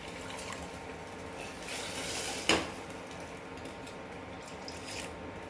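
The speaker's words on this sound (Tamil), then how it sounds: "கொஞ்சம் தண்ணி ஊற்றிக்கலாம்" Water poured into a cooking pot for a payasam dessert, a soft steady trickle and fill with a brief clank of the vessel partway through, quiet and close, with no talk.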